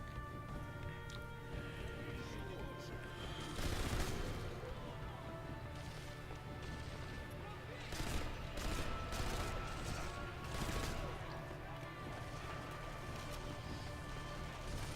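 Soldiers trading gunfire in Sniper Elite V2, Russians against Germans: faint, distant shots and scattered bursts with a few louder crashes around four, eight and eleven seconds over a quiet background.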